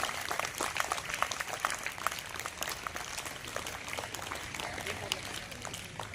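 An audience claps to welcome guests at a Scout and Guide Cub-Bulbul festival in Sri Ganganagar, Rajasthan. The applause is dense, continuous and moderately loud, with voices mixed in throughout.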